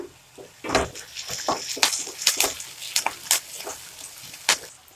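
Curry leaves dropped into frying onions in a pan crackle and spit with close, irregular sharp pops over a low sizzle.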